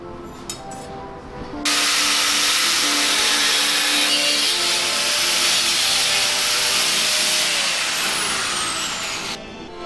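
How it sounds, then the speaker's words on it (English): An angle grinder cuts steel stock for a Japanese-style marking knife, a loud continuous high-pitched whine that starts abruptly after a few light clinks and runs steadily for about eight seconds before cutting off. "cut it with the angle grinder, and shape the rest of it on the belt sander here"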